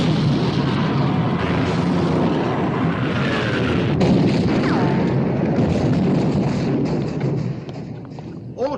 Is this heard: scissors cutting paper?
no